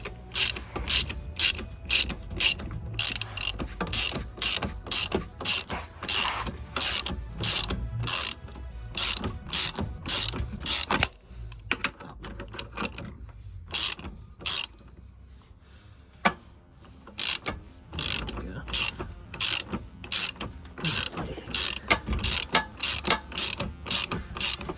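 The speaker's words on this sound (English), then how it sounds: "It's time to start tightening it down." Ratchet wrench tightening an axle bush on a Ford Fiesta, a long run of loud, evenly spaced clicking strokes with a brief pause midway before the ratcheting resumes.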